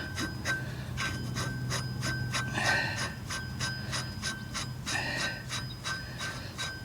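A nut being tightened back onto a mini excavator track fitting, with a quick rhythmic run of ratchet clicks and metallic rasping that pauses briefly and resumes, close and steady.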